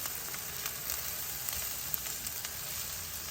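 Onions, chopped ridge gourd and moong dal with turmeric fry in a pan, a dense, even sizzle of hot oil with faint crackles scattered through it and no speech.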